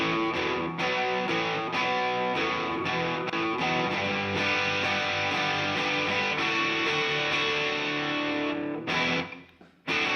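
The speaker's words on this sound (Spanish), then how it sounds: "Ahora vamos a ponerle una reverb." Heavily distorted electric guitar in a rock tone, drenched in reverb, plays continuous loud chords and riffs for about nine seconds before cutting out, with the reverb tail trailing into near silence.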